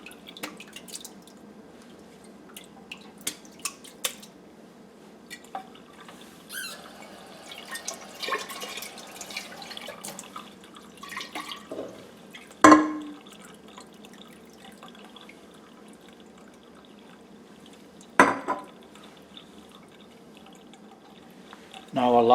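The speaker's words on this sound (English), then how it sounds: "So I'm pouring this through cheesecloth that I have set" Soaked acorn flour mixture drains through cheesecloth set in a colander, giving soft, scattered dripping and trickling with a couple of sharper splashes, fairly quiet overall.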